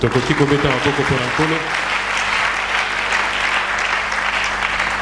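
A church congregation applauds the Lord, loud sustained clapping filling the room while a voice speaks over the start and the clapping carries on alone.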